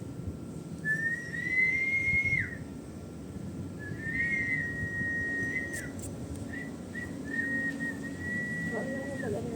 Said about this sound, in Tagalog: Sipol ka nga wala.